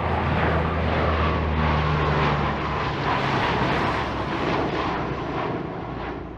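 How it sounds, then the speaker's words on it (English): A firefighting tanker airplane on wildfire duty drones overhead, its engines giving a loud, steady roar that swells and then slowly fades as it passes, with no voices. "When wildfire increases, these certified MAPS planes are called in to supplement USDA Forest Service tanker capacity."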